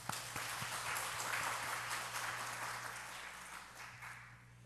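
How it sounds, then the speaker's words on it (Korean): A church congregation applauds together during a Sunday morning worship service, a steady broad wash of clapping that stays full for several seconds before gradually thinning and fading, with a low hum underneath. "우리 하나님께 영광의 박수 한번 치겠습니다."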